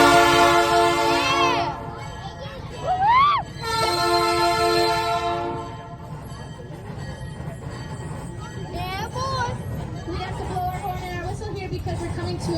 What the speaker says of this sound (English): we'll be ringing our bell and honking our horn 2 times